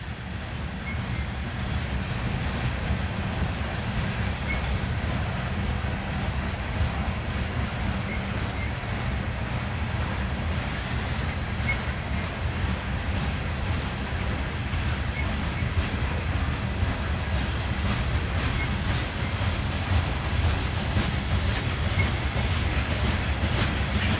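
A long freight train with ballast cars at the rear rumbles past steadily, wheels clattering over rail joints with a constant loud roar and occasional faint squeals.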